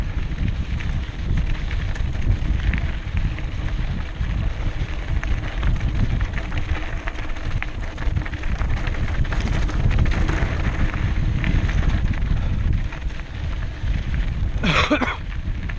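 Trek Slash 9.8 mountain bike descending a downhill trail, with steady loud rumbling and rattling over rough ground, wind rushing across the microphone throughout, and a brief sharp burst near the end.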